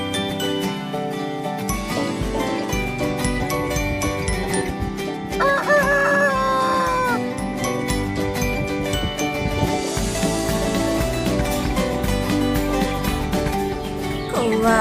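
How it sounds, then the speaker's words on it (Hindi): A rooster crows during a Hindi children's song about animal and bird calls. The crow is a short rising-and-falling call in the middle, mixed into loud, continuous background music. "बोला मुर्गा कुकड़ों को, सुबह हो गई अब सोते क्यों।"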